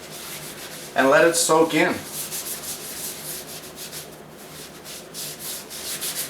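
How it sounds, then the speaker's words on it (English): A paper towel rubs a coating over an end-grain wooden cutting board, giving a steady, close, hissing scrub that runs through the whole clip, with someone speaking briefly near the start. "with a piece of paper towel, just smear this stuff over the board"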